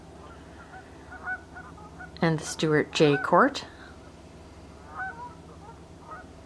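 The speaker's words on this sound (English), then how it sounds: "You can hear the Canadian geese are greeting them this evening." A burst of loud Canada goose honks in a quick cluster, with someone talking over calm outdoor background at a waterfront in Sault Ste. Marie, Michigan, before and after.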